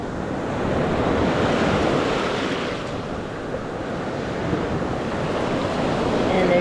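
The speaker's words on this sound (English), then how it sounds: "the waves are getting higher." Rough surf washes ashore at high tide on a Gulf beach after a hurricane, a continuous loud roar of breaking waves with wind buffeting the microphone throughout.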